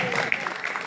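Audience applause for the French team at a live stage show, a dense broadband patter of clapping lasting under a second, with a voice over it.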